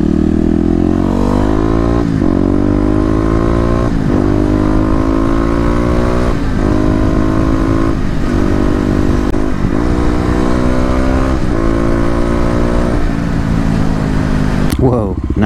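A Kawasaki KLX250 motorcycle rides steadily, its engine loud and close, pitch rising through repeated rev climbs and gear shifts, with a sharp burst near the end.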